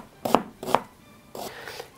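A knife dices an onion into cubes on a cutting board for a sturgeon and crucian carp fish soup, giving three or four sharp, close chops with short pauses between them.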